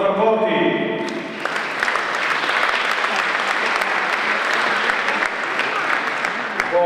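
Steady, full applause from an audience at the Giro d'Onore 2014 cycling awards ceremony, starting after a brief burst of talk and sustained evenly to the end.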